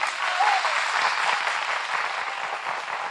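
A television game show studio audience applauding steadily without cheers or shouts, a dense even wash of clapping that fills the whole moment at moderate loudness.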